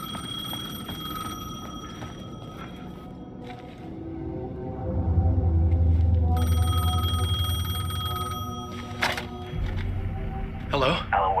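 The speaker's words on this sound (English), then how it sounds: "The payphone was ringing." A payphone rings in the Alan Wake 2 video game with repeated high electronic trills over a low rumbling ambience, at moderate loudness, and someone speaks over part of it.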